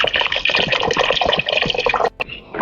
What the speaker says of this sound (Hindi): साथ ही हम इसमें डाल रहे हैं पानी।